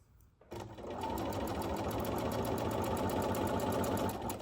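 A sewing machine stitches quilt blocks together in steady chain piecing, its needle whirring in a fast, even rhythm that starts after a brief quiet moment and runs continuously, close and clear with no talking.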